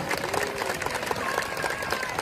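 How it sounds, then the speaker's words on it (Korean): Audience applause at a memorial ceremony for a former president in Bongha village, with continuous, moderately loud clapping and some voices mixed in. "다시 한번 박수 부탁드리겠습니다"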